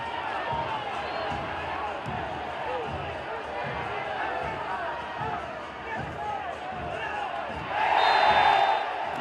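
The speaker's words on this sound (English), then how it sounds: "but the crowd urging them forward" Football stadium crowd at a Central American club match roaring steadily to urge the team forward, a broad continuous swell that rises louder near the end, with a commentator talking throughout.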